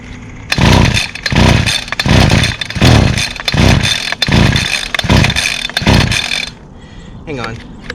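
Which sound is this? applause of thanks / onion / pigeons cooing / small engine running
small engine running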